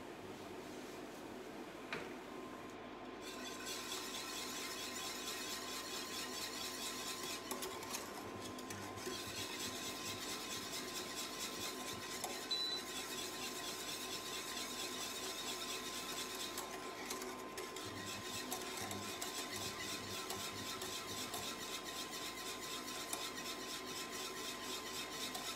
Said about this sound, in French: on va continuer de mélanger. Donc là j'utilise le fouet 13 cm